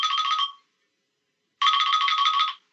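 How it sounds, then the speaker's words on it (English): A bell or ringtone-like electronic ring sounds in two bursts, a short one at the start and a longer one after a pause of about a second, loud and alone with no talk. "Ringing the bell."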